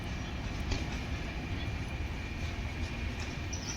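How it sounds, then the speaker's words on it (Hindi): Paschim Express train, running from Amritsar to Bandra, arriving at the station with a steady, continuous low rumble of rolling wagons that stays even and fairly loud throughout. "पश्चिम एक्सप्रेस, ये वहाँ से अब आ रही है।"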